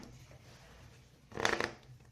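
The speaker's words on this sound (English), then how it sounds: "I'm just going to shuffle my cards here, and then I will cut them" Tarot cards being shuffled by hand, a quiet papery riffle that swells into a brief louder burst midway through, alone without speech.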